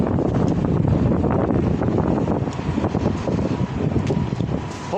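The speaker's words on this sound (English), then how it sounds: "Hopefully the wind is not too distracting. I know when it's windy it's hard to hear" Strong wind buffets the microphone outdoors throughout, a loud continuous roar with gusty low rumbling and no voices.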